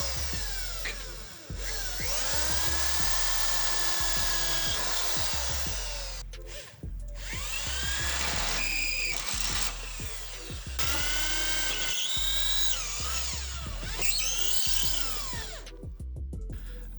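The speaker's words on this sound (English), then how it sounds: "we're going to drill, just drilling those holes in" Power drill boring holes into the bonnet of an AU Ford Falcon for a spoiler, several close, loud whining bursts that rise and fall in pitch, with short pauses between them.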